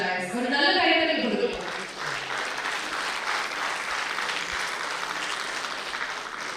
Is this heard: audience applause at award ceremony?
yes